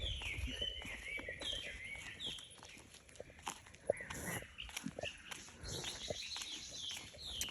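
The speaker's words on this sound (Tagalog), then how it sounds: "Narinig niyo yung anang ibon. Makanta sila." Birds sing in a forest with hydrangeas, thin high chirps and calls scattered over steady outdoor ambience, with occasional footsteps and soft rustling nearby.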